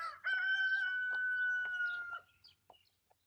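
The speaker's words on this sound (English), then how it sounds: "The birds are noisy today." A rooster crows once in a long, loud, clear call, close by, followed by a few short clucks and chirps from other birds as it fades.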